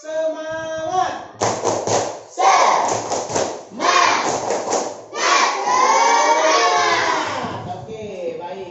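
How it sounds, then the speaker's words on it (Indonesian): Schoolchildren in a classroom doing a rhythmic spirit clap chant, bursts of shouted voices and claps in quick patterned groups, loud and close, ending in a sustained group yell. "Nah, begitu anak-anak, tepuk semangat."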